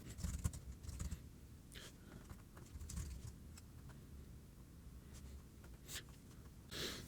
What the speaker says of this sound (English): So let me quickly type that up.